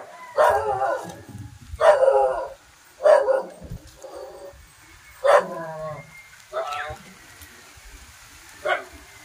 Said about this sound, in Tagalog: Dalawa mga bro. Aso maliit.